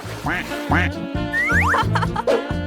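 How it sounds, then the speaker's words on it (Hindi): Ducks quack in a toy dollhouse pond scene, a rapid run of loud, close, nasal quacks repeating about five or six times in quick succession. "और तुम्हारे पास छोटे छोटे बत्तख भी होंगे"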